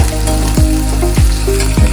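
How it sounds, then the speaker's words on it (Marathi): Loud, continuous sizzling of spices frying in hot oil, with a steady crackling hiss and a low hum beneath it. "इकडं मी फोडणी द्यायला स्टार्ट केलेलं आहे"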